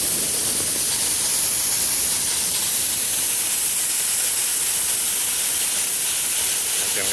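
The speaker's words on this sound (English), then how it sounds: "it'll eventually start to shoot white vapor out" A loud, steady hiss of vapor jets out of a valve, a broad rushing noise that holds constant throughout with no talking.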